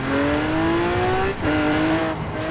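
Lamborghini engine in Forza Horizon 4 revving hard and loud, rising in pitch through a gear, with a short dip at a shift before it climbs again.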